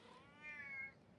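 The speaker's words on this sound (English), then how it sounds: "Oh, that's my cat." A house cat gives a single drawn-out meow, clear and fairly close, rising then falling over about half a second against a quiet room.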